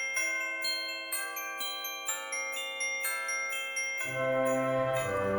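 Small bells tied to a cheese grater Christmas ornament jingle and tinkle in a steady bright shimmer, with repeated light shakes and rings that grow busier toward the end.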